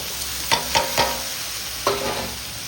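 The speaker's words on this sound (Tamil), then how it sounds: "அவரைக்காய் வதங்கிடுது" Broad beans sautéing in a pan with a steady low sizzle, broken by a few sharp stirring scrapes and clanks, close by with no voices.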